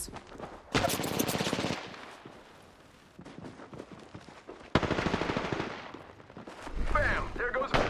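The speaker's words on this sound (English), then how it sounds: "Darn, shots fired and they're hitting me" Bursts of automatic gunfire in the Apex Legends battle royale game, loud rapid volleys around the one- and five-second marks with a further burst near the end, mixed with game effects and a voice talking over parts of it.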